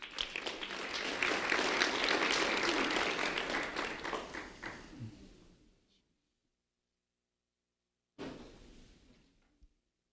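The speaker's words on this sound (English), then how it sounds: "a round of applause for Sean Hall," An audience applauds Sean Hall, a fifth-grade student honored at a sheriff's office recognition event, with a full round of clapping that builds, swells and fades over about five seconds, then stops, followed by a brief second burst of claps.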